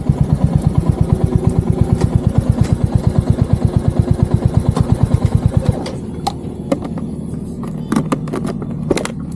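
A Royal Enfield Hunter 350 motorcycle engine runs loud and close with a steady rapid thumping beat that drops away partway through, leaving a softer idle and scattered clicks.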